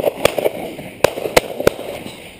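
Shotgun shots during rough shooting in Ireland crack out in a quick scatter of sharp reports, a few close together then more spaced, fairly loud over an open outdoor background.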